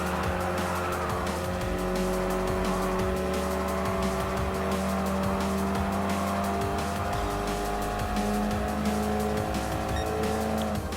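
KTM X-Bow R race car in Gran Turismo Sport, its engine droning steadily while the tires squeal through a long slide, continuous and loud throughout.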